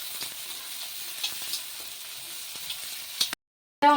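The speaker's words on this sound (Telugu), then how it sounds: "ఇంకా మంచిగా ఆనియన్ అనేది ఫ్రై అవ్వాలి" Onion and crushed garlic fry in a pan with a steady close sizzle and small ticking pops, cut off by a brief silence before the frying resumes.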